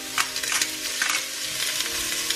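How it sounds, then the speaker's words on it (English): Onions fry in a hot pan, a steady bright sizzle with scattered crackles and stirring scrapes, close and continuous without talk. "I'm gonna put the onions into the pan now and it should be quite hot."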